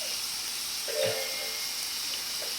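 Frozen vegetables steam in a hot stir-fry pan for a vegan teriyaki dish, giving a steady close hiss and gentle sizzle with a brief louder burst in the middle.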